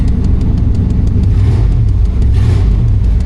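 A truck engine runs loud and close with a rough, steady rumble and a regular light ticking, swelling in two brief revs before settling again, with no talking.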